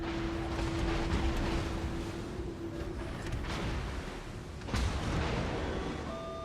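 Naval cruiser guns firing in a ranked World of Warships match aboard the Worcester, with a dense rumbling battle bed and a heavy boom near the five-second mark, no speech.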